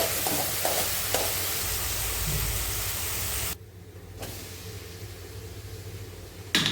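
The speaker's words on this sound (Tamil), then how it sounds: "இப்போ நம்ம சூப்பராக வதக்கிடலாம்" Food stirred and sautéed in a pan, with a steady close sizzle and hiss running throughout, briefly dipping midway before resuming.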